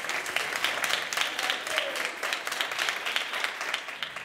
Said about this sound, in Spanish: Un aplauso fuerte para todos.